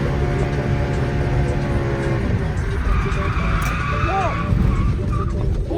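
A BMW M3 E93 drifts through a corner, its engine roaring and tires squealing in long skids, loud and close, with people talking over it.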